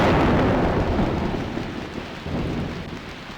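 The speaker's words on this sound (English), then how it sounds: "There is a lot of rain here." Heavy rain pours down in a dense, loud, unbroken roar with a deep rumbling undertone, and no voices are heard over it.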